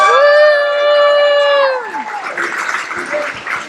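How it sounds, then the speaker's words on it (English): A long sustained tone fades, then an audience at an Astronomy on Tap science talk night breaks into applause and scattered cheering. "Big round of applause to Jackie again."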